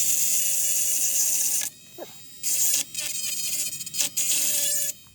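A high-pitched power tool whines while cutting out a badly damaged motorcycle swing arm bearing, running in loud bursts with short stops between them at close range.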